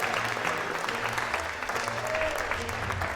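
An audience claps and cheers steadily throughout, a sustained round of applause heard from within the room.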